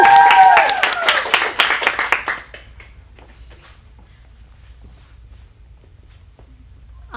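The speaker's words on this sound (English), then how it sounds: "Let's give her a round of applause." Audience applause at a teen acting showcase in Phoenix, loud clapping and a cheer for about two seconds that fades out, followed by a quiet room with faint shuffling.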